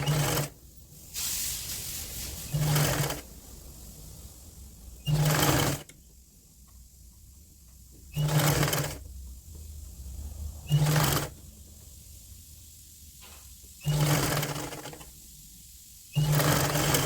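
Sewing machine stitching the side of a woolen kurti in six repeated bursts of rapid whirring, each a second or so long, separated by quiet pauses, close and clear with no talk.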